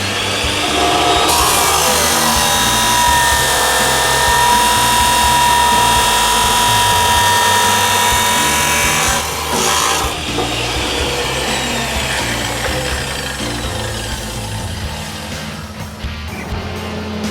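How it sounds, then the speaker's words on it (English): A jack handle for a Harbor Freight bottle jack being cut off with a power saw, loud and continuous close up, its grinding rasp running steadily and then easing off toward the end. "I'm going to go ahead and chop that off."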